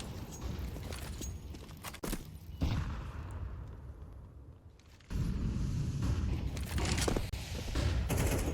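Grenade explosion in a Counter-Strike esports match between BIG and Sprout: two heavy booming bursts land a few seconds apart, surrounded by dense rapid gunfire. No one speaks.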